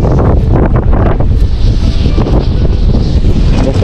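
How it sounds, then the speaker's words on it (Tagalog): Strong wind buffets the microphone at sea from a fishing boat as nets are hauled, a steady loud roar with low rumble and broadband hiss throughout, no talking. "Kahit mahangin, sige lang."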